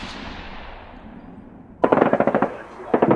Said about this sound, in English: there's a German machine gun. Listen to it.